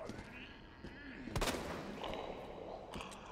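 A pistol shot aimed for a headshot in the horror game Resident Evil 2 Remake; one sharp crack rings out near the middle over a murky ambient background, with a fainter second hit toward the end.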